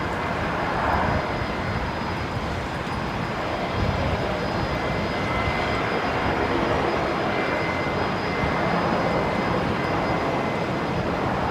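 Airliner landing on runway 19 right at Brisbane Airport, a loud, continuous broadband roar of jet engines and rushing air, sustained and steady throughout.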